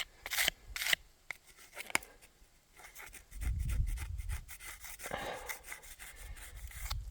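Plastic paint scraper rasping over a stone veteran headstone during cleaning, with repeated short scrapes in quick bursts, close and moderately loud, no talking.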